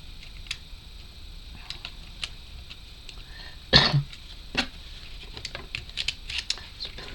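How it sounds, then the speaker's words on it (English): A single short cough rings out midway through a quiet indoor scene during a model build, surrounded by scattered light ticks and taps of small plastic parts. "It's a pathetic cough, wasn't it?"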